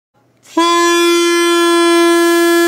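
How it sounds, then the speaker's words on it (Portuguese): After a short rustle, a homemade horn made from a balloon stretched over a piece of pipe blares on suddenly, holding one loud, buzzing, steady note up close. "Como fazer uma buzina super potente usando uma bexiga e um pedaço de cano?"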